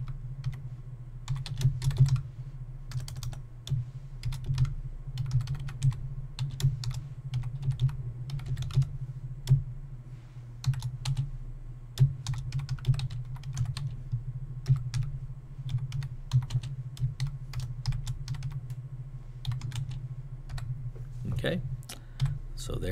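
Steady keystrokes on a physical computer keyboard at a photo booth setup, typing a short note in irregular bursts of close, crisp clicks over a low constant hum.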